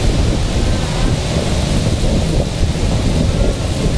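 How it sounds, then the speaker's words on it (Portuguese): Heavy rain pours down steadily, with thunder rumbling through the dense hiss during a car and ferry trip to Marajó island; the downpour is loud and continuous, with no talk. "Muita chuva, muita água, hein?"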